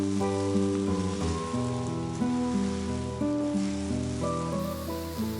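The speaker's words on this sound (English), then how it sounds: "Add in the bok choy and saute for another couple of minutes" Bok choy sautés in a pan for chow mein, giving a soft, steady hiss of sizzling beneath louder sustained background music.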